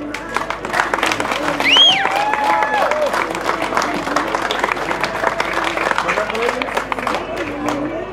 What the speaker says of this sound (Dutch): En de eerste plaats en daarna het applaus voor Lise Manne.